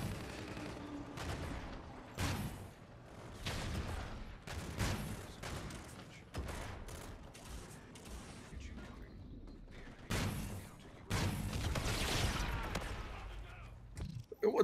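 Weapon fire from the video game Infinite Warfare sounds in repeated bursts of sharp shots and booming blasts, loud and dense, with short gaps between the volleys.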